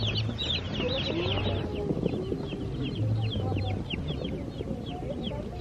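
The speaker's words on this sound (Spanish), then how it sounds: "Es un pato, eso es un pollo." Chickens clucking among poultry for sale at a street market (tianguis) in Guadalajara, repeated busy clucks and calls over a bustling background with faint voices.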